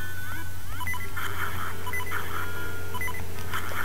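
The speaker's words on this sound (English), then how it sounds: "Stop that infernal beeping." Repeating electronic low-health warning beeps in Zelda: Oracle of Ages play in short regular bursts, loud and alone over a steady background hum.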